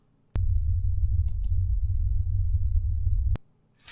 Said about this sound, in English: If I take a noise signal and I put it through a bandpass filter